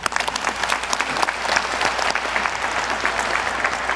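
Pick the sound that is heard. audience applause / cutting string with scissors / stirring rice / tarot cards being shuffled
audience applause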